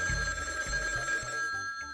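A telephone bell rings in repeated short bursts, a bright sustained tone over low thumping pulses, fairly close and steady for two seconds with no speech.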